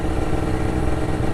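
A motorcycle engine runs loud and close, a dense continuous rumble with a rough, throbbing clatter and no voices over it.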